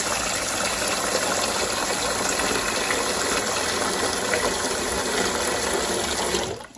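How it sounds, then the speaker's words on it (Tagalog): Cold water gushes steadily into a container to soak food, a loud continuous rushing pour that stops abruptly at the end, with no talk. "So, lagyan natin ng tubig."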